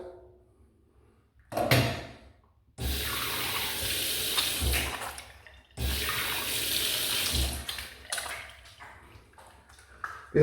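Water from a tap running in two long bursts while a freshly razor-shaved head is rinsed, a close, steady splashing hiss with brief pauses and a few knocks between, no speech.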